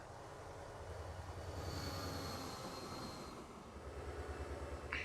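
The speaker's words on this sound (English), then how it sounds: "All the freight trains that originally got stuck now can easily continue on their way" Freight trains rumble steadily along a four-track main line in Transport Fever 2, a continuous low drone with a faint high whine that swells and fades, and a brief clink near the end.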